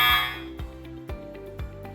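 Audible alert from a Sport Max LED multisport scoreboard panel: four short electronic buzzer beeps spaced about half a second apart, the first slightly longer, clear and close with nothing else heard.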